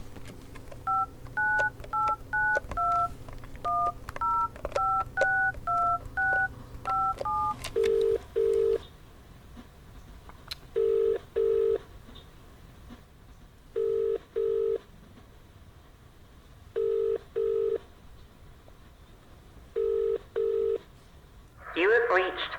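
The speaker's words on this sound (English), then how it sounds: "here's an example of a typical phone call that I would have" Touch-tone telephone keypad tones dialing a number for a phone call: a quick run of paired beeps, then a steady repeating pattern of short double tones as the line rings, fairly close and clear with no one talking.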